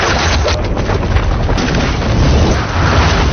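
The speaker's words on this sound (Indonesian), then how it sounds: "Sesaat kemudian, ledakan raksasa mengguncang seluruh markas." A giant film explosion rocks a pirate hideout, a loud, dense, sustained roaring blast of rumbling noise that fills the space without letup.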